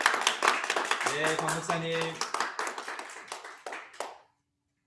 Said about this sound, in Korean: 우리 박수로 우리 환영하겠습니다